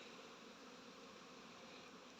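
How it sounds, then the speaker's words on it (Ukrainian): A soft, steady hum of many honeybees at an apiary on a January cleansing flight fills the air, a faint continuous buzz with no voices, ending in a small click. "А так пасіка, пасіка гуде."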